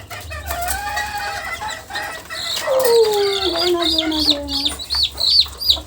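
Chickens cluck and chicks peep in bright, overlapping calls, a busy nearby flock with a continuous chorus of high chirps.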